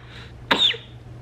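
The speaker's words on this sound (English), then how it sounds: "he has a little bit of dry cough" A baby's single short, dry cough, close and fairly soft, with quiet room noise around it.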